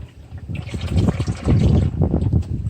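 Engine oil drains steadily from a Jaguar XJR/XKR/XJ8 during an oil change, a close, continuous splashing and trickling stream that swells and wavers, with no voices.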